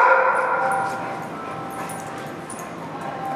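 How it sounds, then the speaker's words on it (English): A dog gives a loud, high whimpering yip that fades into a quieter, strained whine over a few seconds, with no one talking. "She can bark and bark and bark."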